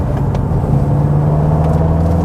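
Mk3 SEAT Leon Cupra pushed hard through corners, its engine holding a steady droning note under constant road rumble, loud and close from inside the cabin.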